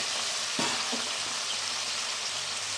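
Cumin powder and other spices for a poultry egg curry fry in a pan with a constant close sizzle, broken by a couple of scraping stirs near the start.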